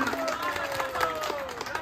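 At a children's play-area neighborhood competition, a crowd claps over a loudspeaker voice and background chatter, a brief busy patter of hands beneath the talk.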